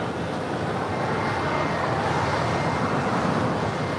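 An airliner taking off from runway 25 right at LAX, a broad continuous roar of jet engines at moderate distance, steady and rising slightly, with no talk.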